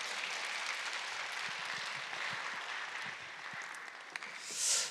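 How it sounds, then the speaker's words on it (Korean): A gathering of church ministers at an evangelism camp applauds to welcome a pastor, producing fairly quiet, steady, even clapping across several seconds, with a short, sharp sound at the very end. "박수로 환영하겠습니다."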